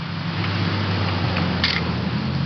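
An old camera in a video game clicks as a picture is taken, with one sharp shutter snap and a couple of fainter mechanical ticks over a low, steady hum.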